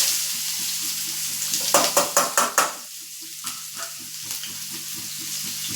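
Chopped onion dropped into hot oil with curry leaves for upma, a loud steady sizzle with a burst of sharp spoon-against-pan scrapes and clinks as it is stirred, then softer bubbling frying.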